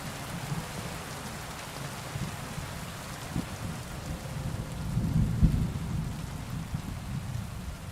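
Steady rain hisses throughout while low rumbling thunder swells and peaks near the end in the video game Kingdom Come: Deliverance 2, fairly quiet and without voices.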